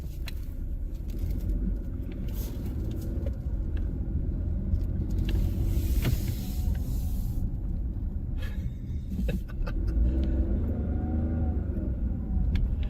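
A bus pulls away outdoors near a theme park parking area, its engine a steady low rumble with passing traffic noise, continuous and fairly close, no voices.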